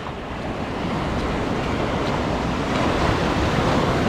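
Sea surf heard while fishing with a rod from a rubber inner tube on the water, a loud continuous wash of waves mixed with heavy wind buffeting the microphone, with no voices.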